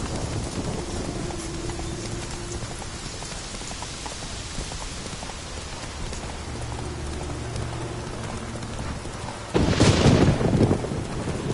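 In The Witcher, the horse Roach gallops through rain, hooves clopping in a steady rhythm under constant rainfall, with a louder gust or thunder-like swell near the end; no speech.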